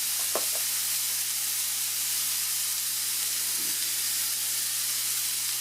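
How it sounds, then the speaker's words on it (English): Ground beef browning in a hot pan, a steady loud sizzle and hiss throughout with a couple of faint utensil taps. "Alright, I got that ground beef busted up in there, and it's almost done."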